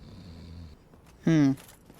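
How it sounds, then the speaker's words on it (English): Snoring enemies in the Catacombs area of the Dark Souls video game, stirred after a bell of awakening is rung: one loud, short, rasping snore-like growl rises briefly over a low, steady droning background. "Sounds like some snoring going on there."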